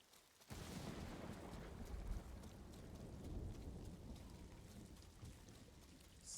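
Heavy rain hisses steadily in the Ghost of Tsushima game world, with low rolling thunder rumbling underneath. Everything is faint and distant and stays continuous after a quiet opening moment.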